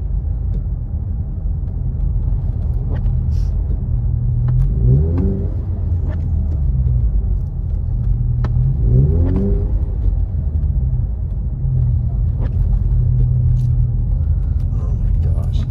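A four-wheel drive vehicle rolls through about four inches of snow in Big Bear, California, its steady low engine rumble and tire noise continuous and close, with occasional rises in revs and people talking inside.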